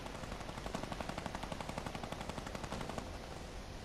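Rapid automatic gunfire in a multiplayer shooter video game, a steady stream of evenly spaced shots that sound fairly distant and soft, with no talk over them.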